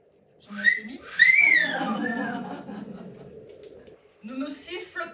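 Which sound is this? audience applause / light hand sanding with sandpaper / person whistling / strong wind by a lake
person whistling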